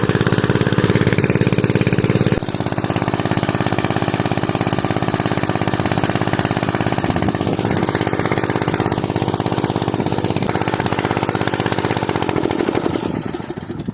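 An engine-driven irrigation water pump chugs loudly and steadily nearby for the whole stretch, with a slight shift in tone partway through and no voices.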